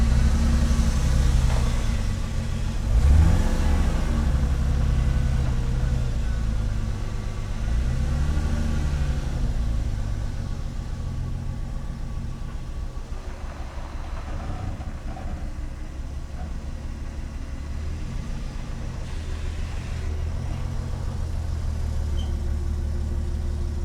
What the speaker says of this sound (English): Sounds like you need a power steering pump.